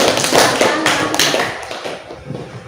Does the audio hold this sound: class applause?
yes